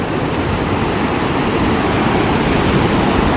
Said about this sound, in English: we are walking towards the actual falls